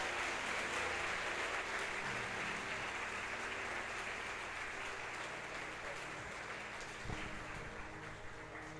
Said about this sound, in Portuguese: Se é para Jesus, pode ser mais alto esse aplauso